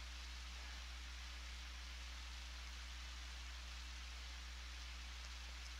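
Steady, soft rain hiss with a low hum underneath from the video game Undertale Repainted, continuous and unchanging, no voices.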